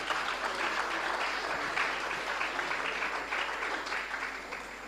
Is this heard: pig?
no